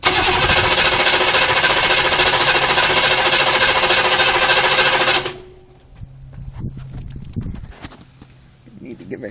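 A 6.2 diesel Suburban engine cranking and knocking, loud and close with a rough, rapid clatter for about five seconds, then cutting off to faint clanks and low rumbles.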